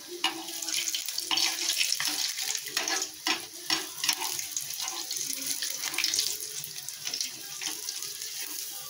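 Udid vadas crackle and sizzle steadily in hot oil, a dense, continuous frying hiss with small pops and bubbling throughout, close and fairly loud.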